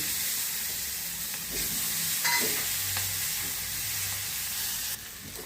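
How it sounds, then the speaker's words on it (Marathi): Sliced onion hitting hot oil with garlic for a tempering in a pan, a loud close continuous sizzle and crackle with occasional stirring scrapes, no talk. "छान कांदा टाकते मी"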